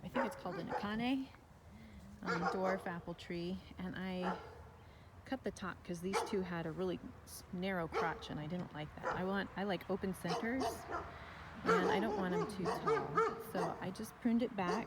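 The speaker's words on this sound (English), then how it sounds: "Sorry about the dogs." Several dogs bark and yip repeatedly in the background of an orchard, with steady talk over them.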